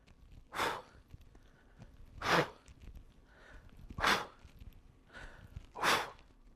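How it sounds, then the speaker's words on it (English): Heavy rhythmic breathing from a man over 60 doing a twisting ab exercise, four loud, close exhalations spaced roughly every two seconds, with fainter inhales between. "Listen to my breathing."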